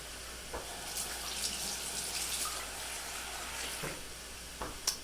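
Tap water runs into a cooking pot in a home kitchen, a steady close hiss of flowing water with a few clanks near the end.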